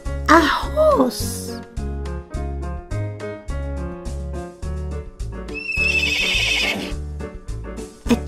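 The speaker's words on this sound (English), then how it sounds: "A horse." A toy farm animal puzzle plays horse neighs, a shrill whinny at the start and a longer, quivering one later, each loud above cheerful children's background music.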